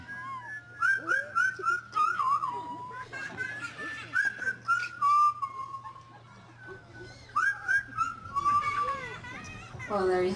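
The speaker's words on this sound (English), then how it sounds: "loves to whistle and sing. Now keep in mind when he is whistling, he makes it up as he goes along" A parrot at a safari park bird show whistles an improvised, wandering tune in rising and falling phrases, loud and close, with a steady low hum and some background voices underneath.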